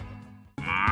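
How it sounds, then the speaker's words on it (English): Cow lowing in a short, close, loud moo that starts abruptly after a fading previous animal call, rising in pitch and held to the end. "This is a cow. Cows give us milk."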